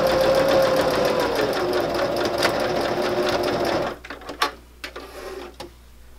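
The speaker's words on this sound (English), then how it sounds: "One last turn, and then we're gonna just backstitch over our stitches where we started." Sewing machine backstitching along the edges of a fabric coaster, a loud, steady, close mechanical whir that runs for about four seconds and then stops, followed by a few quieter clicks and handling sounds.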